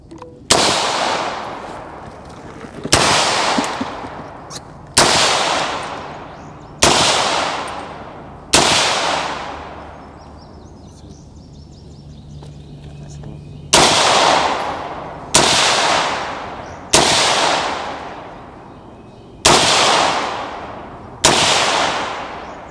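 Firearm shots at a shooting training session, about ten sharp, loud reports fired at a steady measured pace with a pause midway, each cracking near and trailing off in echo.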